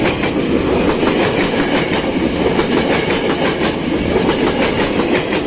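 Commuter train 6006 arrives from Bogor, bound for Angke station, and passes loudly and close on the rails, with a continuous heavy rumble and a rhythmic clickety-clack from the wheels.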